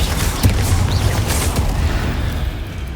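A Confringo spell blast in the video game Hogwarts Legacy: a loud fiery burst with a sharp crack early on, followed by a heavy low rumble that slowly fades.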